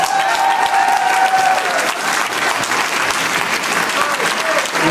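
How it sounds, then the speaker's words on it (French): Warm applause from an audience of railway workers' supporters, a dense steady patter of many hands filling the room for several seconds, loud and close, with a voice faintly underneath. "merci aux copains et aux copines Cheminot, qu'on peut applaudir chaudement"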